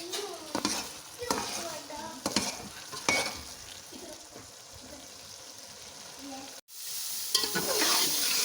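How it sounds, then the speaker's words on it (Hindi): Grated carrot for gajar halwa sizzles and fries in ghee, with repeated scraping stirs of a spoon against the pan; a brief gap interrupts the steady frying before it resumes, fairly close and without speech. "अब अच्छी तरह मैं इसको भून लूँगी"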